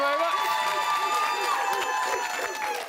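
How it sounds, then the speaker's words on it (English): A studio audience cheers and whoops loudly and steadily throughout at a live TV chat show, a dense crowd roar with high shouted voices layered on top. "It's good you cheer"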